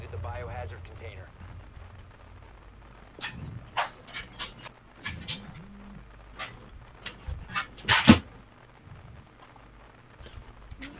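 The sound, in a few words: dog panting and whimpering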